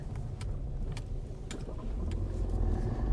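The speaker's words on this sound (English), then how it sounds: "It sounds like a rumbling wheel bearing, but I'm sure it's not a wheel bearing." A low, continuous rumble from a car with a damaged tyre rolling along the road, steady and droning like a wheel bearing, with faint ticking above it and no talking.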